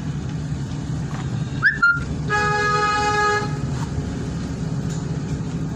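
A car horn in a narrow lane sounds a short toot, then a longer steady honk of about a second and a half, over the low rumble of road traffic.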